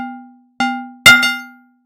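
A physical-model synth in VCV Rack, an Audible Instruments module, imitates a mallet striking glass: three bright, bell-like tonal strikes, each ringing and decaying, with the last two close together.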